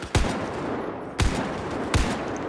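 Battlefield 4 machine gun fire in a video game: three loud, sharp gunshot bursts spaced about a second apart, each with a booming low-end thump and a short decaying tail, no talking.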